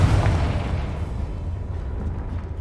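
A Confringo blasting spell explosion in the Hogwarts Legacy video game, a heavy booming blast at the start that fades into a rumbling tail, loud and close with no talking.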